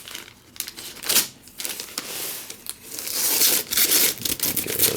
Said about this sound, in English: Get rid of the paper.